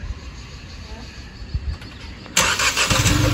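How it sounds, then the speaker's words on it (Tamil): A Hyundai i20 starts remotely from its key fob: a quiet stretch with faint background noise, then the engine abruptly catches and settles into a loud, steady idle close by. "நீங்கள் வண்டியை ஒன்ஸ் லாக் பட்டன் ப்ரெஸ் பண்ணிட்டு இதை அமுத்தி பிடிச்சிங்கன்னா ஸ்டார்ட் ஆகும்"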